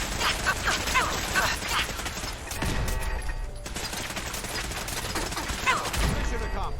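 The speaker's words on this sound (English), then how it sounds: "Laser turrets." Laser turrets fire in a video game, rapid bursts of blasts repeating in quick volleys with mechanical clatter between them, loud and close, with brief speech-like voices mixed in.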